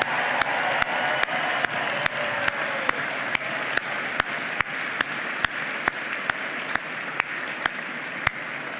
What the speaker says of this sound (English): How about one more round of applause for these graduates?